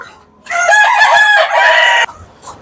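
A rooster crows loudly and close by in one long call on a poultry farm, with faint clucking and soft background sounds before and after.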